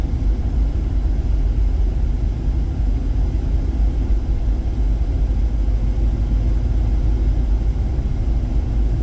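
A 1995 Jeep Cherokee on a test drive, heard from inside as a loud, steady low engine and road rumble that runs unbroken throughout with no voices.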